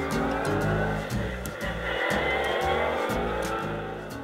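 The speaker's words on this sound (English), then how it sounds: "So this is the sound of driving a Mini Cooper." A Mini Cooper driving, played back from a car encyclopedia app: a loud, continuous engine drone whose revs climb and drop in repeated steps like gear changes, with no voices over it.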